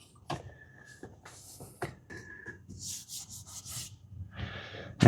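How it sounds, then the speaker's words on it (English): Rubber weather stripping being pressed back onto Tesla Model 3/Y dashboard trim, heard as close, intermittent rubbing and scraping strokes with short pauses and a sharp knock at the end. "Then you can reinstall this weather stripping."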